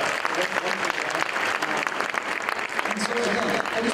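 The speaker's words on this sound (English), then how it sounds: "Can we just give them a round of applause?" Steady, dense applause from a crowd fills the space, continuous clapping at an even level throughout.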